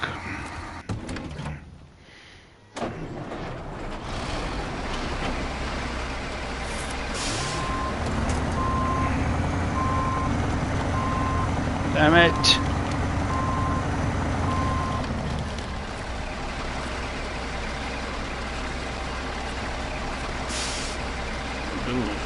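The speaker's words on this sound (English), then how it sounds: "I'm trying to get it to go backwards and it won't go backwards" Truck reversing beeps from the Snow Runner video game in Zurdania on PS5, repeating steadily over engine rumble and a hissing air brake, with a brief muttered voice near the start.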